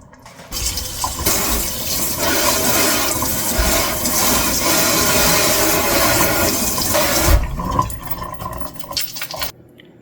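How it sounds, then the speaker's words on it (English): A spoon rinsed under a running kitchen tap, a steady loud rush of water for most of the span, close and continuous, tapering off near the end, with no voices. "Now let's rinse this spoon because that's what you do."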